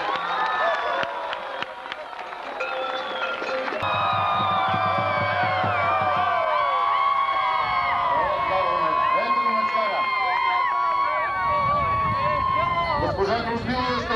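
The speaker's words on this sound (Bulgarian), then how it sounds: "Аплодисменти!" Crowd at a festival award ceremony in Simitli, 2006, breaks into loud sustained applause and cheering, with voices and a brief low musical tone near the start, continuing without letup throughout.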